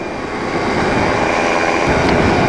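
A Flylight ADAM light aircraft in flight, its engine a steady, loud, continuous drone with broadband wind noise that holds unbroken close to the listener.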